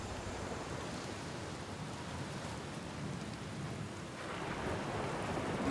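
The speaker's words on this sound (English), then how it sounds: "It's raining again. Oh, they do the little raindrops on the suit viewport." Steady rainfall patters on a space suit viewport in a video game, a dense, even hiss of drops heard close up and alone, growing slightly louder toward the end.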